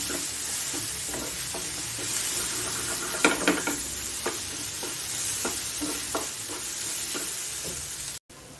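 Malvani masala with asafoetida and turmeric is stirred in a pan for a dried-shrimp (javla) masala, a soft steady sizzle broken by scraping spoon strokes and a few clicks against the pan.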